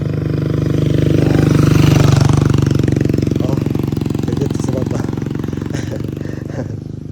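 A motorized tricycle's engine runs with a steady, rapid chugging beat on a rural mountain road, close and loud, its throb swelling and then easing slightly while a voice speaks briefly.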